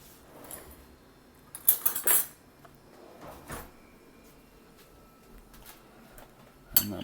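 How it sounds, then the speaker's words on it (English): Metal spoon clinking against dishes in a kitchen while fetching a spoon for raw vegan soup: a few bright, sharp clatters in quick clusters, then quieter handling and one last clink, close and fairly loud. "I'm gonna get a spoon."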